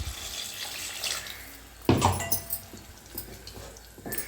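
Water is poured into a pot of manathakkali vatha kulambu simmering with tamarind and chili powder: a faint, brief splashing pour with quiet kitchen background and no voices.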